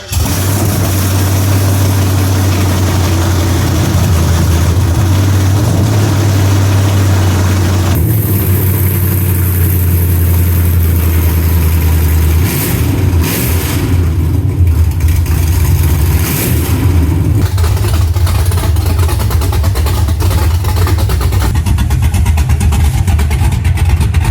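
A Hummer H2 LS engine swapped into an OBS Chevy truck runs loudly and steadily close by, with a deep idle drone whose tone shifts partway through as the revs change.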